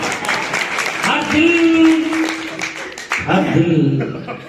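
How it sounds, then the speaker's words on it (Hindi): Audience applause at a live stage show in Jaipur, Rajasthan, a steady wash of clapping from a crowd under a sustained singing voice with music, loud and close throughout. "तालियां बजा सकते हैं आप।"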